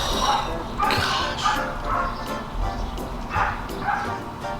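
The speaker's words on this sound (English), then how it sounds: "My neighbor's dogs are barking." Several dogs bark in short, uneven bursts at middle distance, the yips and woofs overlapping and repeating over steady background noise.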